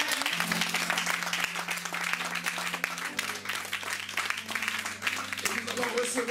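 A church congregation at a French-language deliverance seminar applauds continuously, a dense wash of clapping throughout with sustained tones and voices mixed in underneath.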